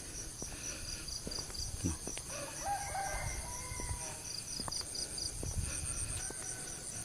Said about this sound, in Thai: ได้ยินเสียงไก่ยังขันอยู่เนาะ